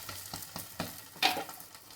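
Onion egg omelette frying in a pan as it is flipped over, a quiet steady sizzle with a few soft stirring scrapes and a brief brighter hiss partway through.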